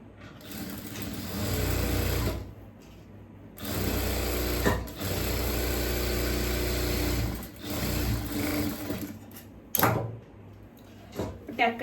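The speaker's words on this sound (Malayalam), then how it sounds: "അപ്പൊ ടക്ക് ഒന്ന് തയ്ച്ചെടുക്കണം" A sewing machine stitches a tuck on a churidhar, its steady motorised whirr running in long stretches with short stops in between and a few clicks near the end.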